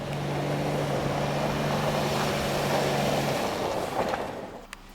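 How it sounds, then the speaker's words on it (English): A BMW X5 3.0i Sport gets underway on a snow-covered parking lot as its dynamic stability control engages, giving a steady, loud engine drone with a low hum that fades near the end. "You can hear the dynamic stability control getting me underway."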